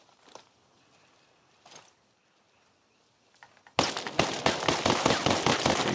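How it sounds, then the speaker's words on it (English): AK74 rifle hip-fired in the video game Ghost Recon Breakpoint, a loud sustained burst of rapid automatic shots that follows a few faint, sparse clicks and taps. "So let's start with the AK74. And we'll just hip fire it."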